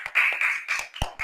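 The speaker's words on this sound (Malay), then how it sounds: "Pandai, tepuk tangan." Children clap their hands in a classroom Quran recitation session, a few uneven bursts of claps spread over about a second, fairly close and moderately loud, with no talking.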